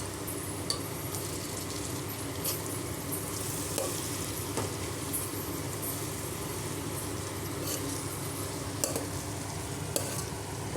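Yogurt stirred into rice water in a pot for veg pulao, a steady bubbling rumble with occasional spoon clinks against the pot, heard up close.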